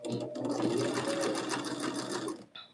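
A sewing machine stitches quilt block pieces for an Oh Susannah quilt block, running in a steady, close, continuous whir for about two and a half seconds before briefly stopping.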